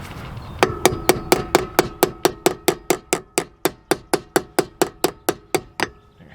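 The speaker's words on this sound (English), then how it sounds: "just use the claw hammer" A claw hammer striking steadily during camper wheel bearing work, about twenty sharp metallic blows at an even, brisk rhythm, close and loud with a ringing tone, no talk.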